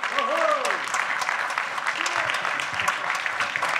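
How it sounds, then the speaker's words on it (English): Applause from a banquet audience for volunteers who have each given at least 100 hours of service, a steady dense clatter of clapping lasting several seconds, with a faint voice or two mixed into the crowd. "Give them a big round of applause."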